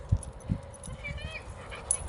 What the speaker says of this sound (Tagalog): Ang mga aso pa na yung habol oh.